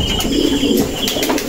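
Pigeons coo in soft, low, rolling calls nearby, a short continuous burst with no voices.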